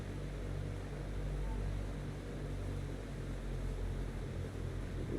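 Small aircraft flying out of Cape Cod, its fixed landing gear always down, with the engine running at low power as a steady, broad droning rumble mixed with wind noise, constant and unbroken.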